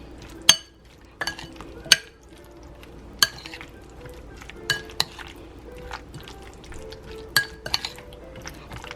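Cream cheese stirred with stevia in a bowl, heard as scattered sharp clinks of a spoon against the dish separated by quieter soft mixing, fairly close.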